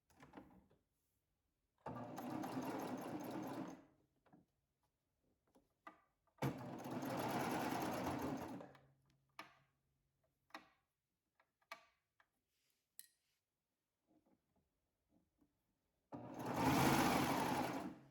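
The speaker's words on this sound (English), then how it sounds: "I am gonna start all the way at the end and serge down, so I will do that now." A serger stitches down a snap placket in three separate bursts of rapid, whirring, ticking stitching, with small clicks and handling noises between runs.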